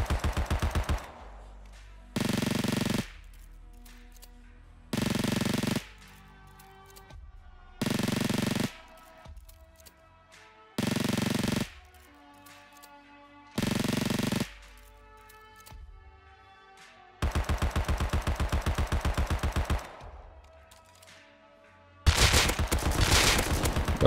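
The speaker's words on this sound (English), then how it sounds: "Then Thompson. It has very low recoil." Thompson submachine gun firing in the game Rust, sharp rapid full-auto bursts repeated about seven times with short pauses between, then one longer sustained burst, loud and close, no talk.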